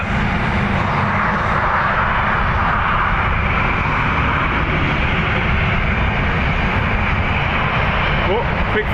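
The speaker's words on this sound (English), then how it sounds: "Ryanair UK off to Edinburgh" A Ryanair UK airliner departs Dublin Airport for Edinburgh, a loud, steady, broadband jet roar filling the whole stretch without letup, close and continuous, with a voice heard over the engine noise.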